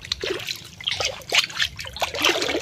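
Creek water trickling and dribbling over rocks, a close, fairly faint irregular bubbling and splashing with no talk.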